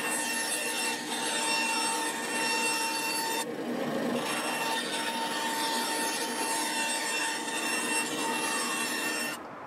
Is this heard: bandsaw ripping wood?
yes